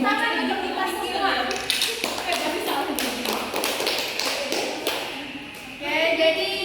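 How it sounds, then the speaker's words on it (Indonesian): A classroom of students applauds at the end of a lesson on debating. A burst of scattered clapping and tapping rises, then fades, with voices talking over it. "Tepuk tangan untuk kita semua."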